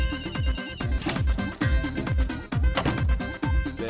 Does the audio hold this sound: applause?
no